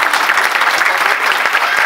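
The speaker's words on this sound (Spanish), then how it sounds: "Stephanie Franco Macías, al cual les pido un aplauso." Audience applause at the inauguration of a dairy in La Luz, Pajacuarán, a steady, dense clapping from a crowd that holds evenly throughout, with no talk over it.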